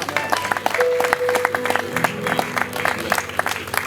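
A wedding congregation in a church applauds and cheers in praise of the Lord, dense clapping with scattered voices and a sustained tone underneath throughout.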